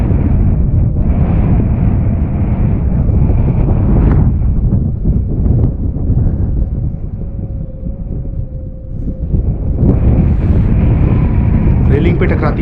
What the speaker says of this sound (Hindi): ज़्यादा तेज हवा चल रही है